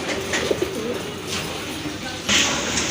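Gola (native) pigeons at a pigeon sale coo in low, throaty, repeated calls close by, with a brighter burst of sound near the end and faint background noise.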